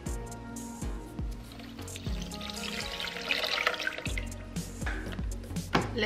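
Water is poured into a blender holding limes, lemon, condensed milk and sugar for Brazilian lemonade, a close, continuous splashing and gurgling with dripping.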